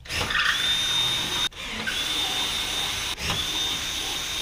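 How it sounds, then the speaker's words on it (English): A power drill whirs steadily in three long runs, enlarging bolt holes for lights on a Chevrolet Colorado ZR2, each briefly stopping and restarting, loud and close with a high whine. "I'm gonna drill them out a little bigger, big enough to fit these bolts."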